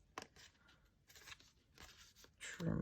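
Long scissors trim strips of card for a handmade card, giving a few quiet, separate snips and crisp cuts with short pauses between them.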